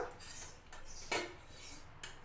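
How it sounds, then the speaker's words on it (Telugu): A frying pan is set onto a stove with a few light metallic clanks and scrapes, close and fairly quiet, with no talking. "స్టవ్ వెలిగించి పాన్ పెట్టుకోవాలి"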